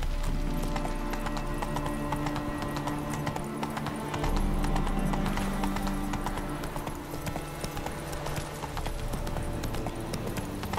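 In The Witcher 3 video game, a horse gallops with fast, rhythmic clip-clop hoofbeats that continue steadily throughout, set against a faint ambient background.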